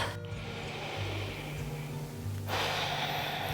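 A person draws one audible breath while holding a yoga balance pose, a soft, close rush of air over a steady background hum, with a second breathy swell coming in near the end.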